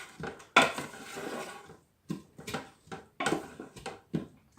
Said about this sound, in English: let me just give this a stir